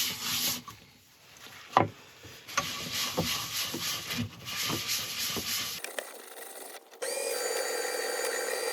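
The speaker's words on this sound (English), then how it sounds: "I'm just going to go in now with a Yorkshire grit just to buff and polish the surface before I put the final finish on" Red oak bowl on a woodturning lathe being buffed with Yorkshire grit, a steady close rubbing and rasping hiss with brief scrapes, then a shift to a smoother, brighter continuous whir near the end.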